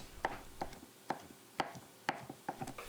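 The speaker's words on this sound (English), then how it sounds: "I'm going to dice them up very fine" A knife dices drained carrots and peppers finely on a cutting board. About seven crisp, evenly spaced chops land close by with short gaps between them, and nothing else is heard.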